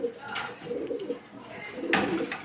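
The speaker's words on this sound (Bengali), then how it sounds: "এইখানে দেখতে পাচ্ছেন এক জোড়া রেড চেকার রেসার হোমা কবুতর" A pair of red checker racing homer pigeons cooing close by in a loft, soft throaty repeated coos in an uneven rhythm.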